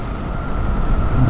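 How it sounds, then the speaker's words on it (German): Wind buffeting a microphone outdoors during pike fishing with a rubber lure, a steady loud low rumble filling the whole short stretch and swelling slightly toward the end. "das ist ja so windig hier"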